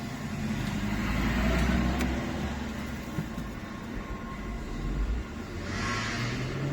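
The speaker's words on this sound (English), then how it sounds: "Let's start this vehicle." A small N5 electric car that needs no driver's licence starts and drives off, giving a steady low rolling hum and road noise that swells and eases, with no talking.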